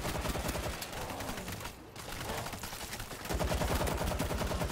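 Rapid automatic gunfire in the video game World War Z, aimed at a giant zombie in Moscow, with dense sustained bursts, a brief pause near the middle and heavier firing toward the end.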